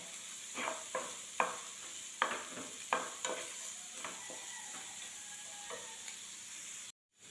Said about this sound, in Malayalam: രണ്ട് തണ്ട് കറിവേപ്പില കൂടി ചേർത്ത് നന്നായിട്ട് വഴന്ന് വരട്ടെ